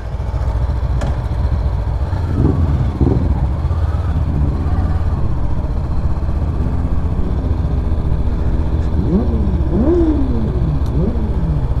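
A new Honda CBR 500 R motorcycle engine idles with a low, steady rumble, with a few rising revs near the end.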